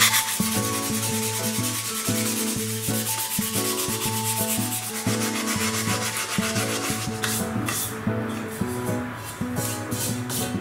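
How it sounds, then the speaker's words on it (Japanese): Abrasive file scraping white mineral deposits off a reptile wet shelter, a steady loud rasping rub that continues without pause, heard up close with no talk. "これでねもう削ろうと思います。"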